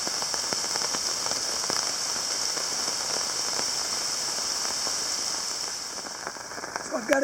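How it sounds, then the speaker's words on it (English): Heavy rain from a tropical storm pours steadily at a campsite, a dense hiss of drops pattering on surfaces, loud and unbroken until it thins slightly at the end. "And here comes the heavier rain."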